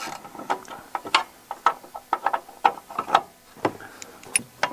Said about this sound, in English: Remove the bottom long sleeve bolt on the back right-hand side.